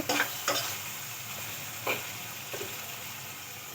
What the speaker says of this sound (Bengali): দেখুন নেড়ে চেড়ে নিব।